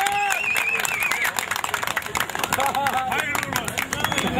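Loud, sustained applause and cheering from villagers at a harvest festival auction in Çamlıpınar, busy clapping mixed with crowd babble and voices throughout.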